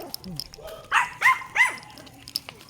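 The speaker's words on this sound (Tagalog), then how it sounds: "May aso kasi. Alam niya kasi tinatahulan niya." A dog barks three times in quick succession from nearby on a Sunday walk, with faint yelps before and after and people talking softly.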